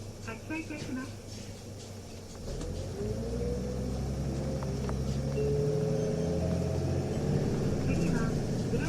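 Seibu city bus, a Nissan Diesel UA KL-UA272KAM with an abnormal noise fault, pulling away from a stop: a deep diesel rumble builds and holds steady from inside the cabin, with faint whines and rattles over it.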